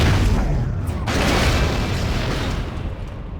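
A deep video game explosion booms with a heavy rumble, followed by a sustained roaring, crackling aftermath that slowly fades.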